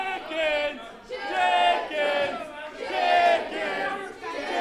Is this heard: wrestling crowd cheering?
yes